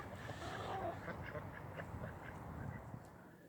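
Ducks in a winter garden quack in a lively cluster of repeated nasal calls, close and fairly loud over a low outdoor rumble, with a brief human voice mixed in.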